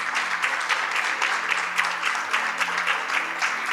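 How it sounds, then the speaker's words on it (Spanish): A church congregation claps together after a prayer, a dense, steady applause with rapid overlapping claps that holds at an even level throughout, with no voices over it. "Dale un buen aplauso al Señor."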